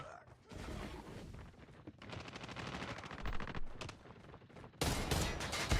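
Rapid gunfire from the mobile shooter Call of Duty Mobile during a world championship finals match, with dense bursts of automatic shots throughout and a loud heavier volley near the end, some faint voice underneath.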